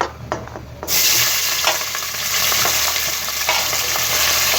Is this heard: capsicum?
yes